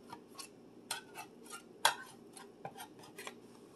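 A fork scraped carefully along the side of a baking pan holding freshly baked homemade banana bread, giving a series of faint, soft clicks and scrapes spaced irregularly, close by and quiet.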